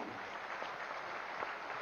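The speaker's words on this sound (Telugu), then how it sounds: "ఒక్కసారి అందరికీ కూడా గట్టిగా క్లాప్స్ కొడదామండి" An audience at a Tirupati meditation gathering claps together in a steady, dense burst of applause that holds evenly for a couple of seconds with no voices over it.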